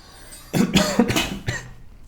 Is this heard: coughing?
yes